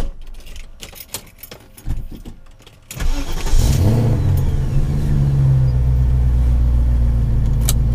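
Keys jangle and rattle in an ignition before a BMW E30's engine cranks and catches, settling into a loud, steady idle rumble close by.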